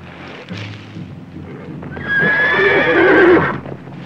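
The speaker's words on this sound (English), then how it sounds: "I better tie down that stallion before he breaks loose and takes the bunch with him." A stallion neighs loudly and close by: a long, rising and wavering whinny in the second half, after quieter shuffling and faint hoof movement at the start.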